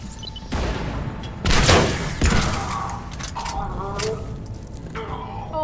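Heavy gunfire in a Mass Effect 3 battle on Omega: bursts of shots and thudding impacts with booming hits, loud and close, while a voice shouts over the fighting.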